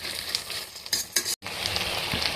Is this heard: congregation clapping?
no